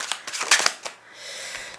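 Tarot cards are shuffled by hand in a quick burst of crisp riffling flutters, close and fairly quiet, followed by a soft lingering rustle.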